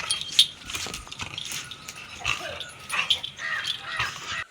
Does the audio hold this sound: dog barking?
yes